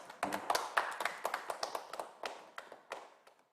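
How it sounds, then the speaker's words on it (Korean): Applause at an online community forum for a youth education program, heard as a burst of individual claps from a small group, fairly close and fading toward the end, with no talking over it. "큰 박수 부탁드리겠습니다"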